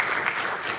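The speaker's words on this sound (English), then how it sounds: "let's give a round of applause for our panelists" An audience at a startup competition finals gives a round of applause for the panelists, a brief burst of dense, steady clapping throughout the room.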